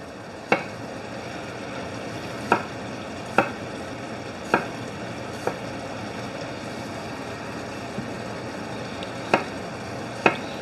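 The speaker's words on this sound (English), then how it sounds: "I'll chop up these potatoes." Peeled potatoes being chopped on a cutting board, with about eight sharp, separate knife knocks at an uneven pace over a low background hiss from a pot cooking on the stove, heard close by.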